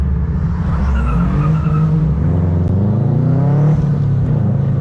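Car with fender exit exhaust driving past during a cruise with a swapped Subaru GC8 and a GDB, a loud, close engine drone with rising and falling pitch, revving and fading, and no talk.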